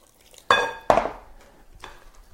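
A spoon knocks against a bowl while cornbread stuffing with butter and stock is stirred, giving two sharp clinks close together followed by softer scraping and a faint final tap.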